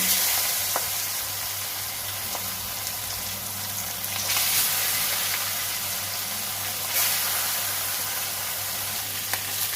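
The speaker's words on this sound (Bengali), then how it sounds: "ভেজে নেব" Fish rubbed with salt and turmeric frying in hot oil gives a steady, dense sizzle throughout, with two brief louder crackling surges, and no voices.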